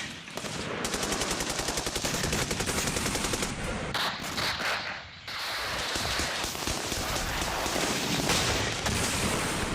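Battle sound effects of heavy gunfire from a war, with long rapid machine-gun bursts and fusillades, dense and loud, and a brief break midway before the firing resumes.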